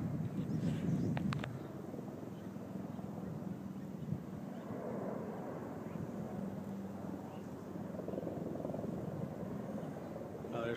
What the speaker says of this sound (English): There's a plane coming in to Sky Harbor.